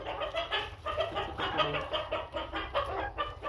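A broody Chabo bantam hen clucks in a steady, rapid run of short, close notes, continuing without pause.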